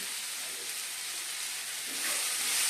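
Onion and tomato frying in a pan, seasoned with a little salt: a steady, bright sizzling hiss that continues throughout and swells slightly toward the end.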